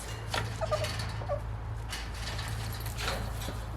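Goats shuffle about on their hooves, giving a few soft, scattered clip-clop knocks over a steady low hum, fairly close by.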